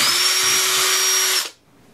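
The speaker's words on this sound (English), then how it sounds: "Drill your hole" Power drill with a quarter inch bit boring a hole through a belt buckle, a loud steady whine with no talk that runs about a second and a half and then stops abruptly.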